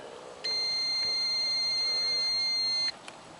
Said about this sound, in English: the digital multimeter continuity setting is working, which will make a beep sound